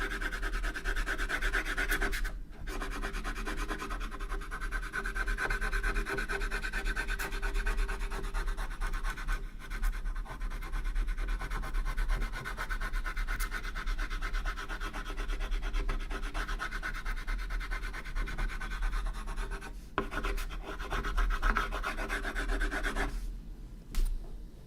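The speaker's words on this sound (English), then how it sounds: "Now we're going to burnish this down a little bit." Inked comic art is burnished down with a steady, close rubbing and scraping that continues for about twenty-five seconds. It sounds like a dry, grainy friction with a few brief pauses and no voices.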